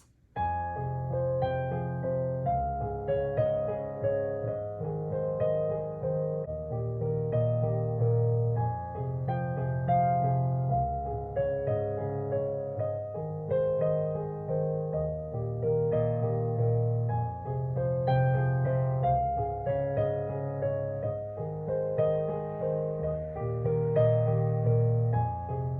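Solo piano performs a piece at full tempo, a steady flowing pattern of repeated broken chords over sustained low bass notes, continuous and moderately loud for the whole stretch with no voices.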